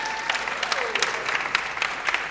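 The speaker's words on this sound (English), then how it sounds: "Let's give them a big round of applause." A church or community gathering breaks into warm applause, scattered crisp claps standing out over a steady patter from a modest crowd, with faint voices underneath.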